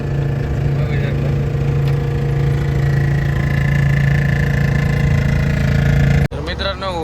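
A Rajdoot motorcycle engine runs with a steady, loud low hum close by, cutting off abruptly near the end as speech continues.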